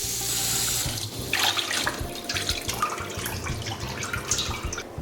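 Tap water runs steadily into a sink while parboiled duck meat is rinsed clean of scum, a loud continuous splashing stream with shifting gurgles as the pieces are moved under it.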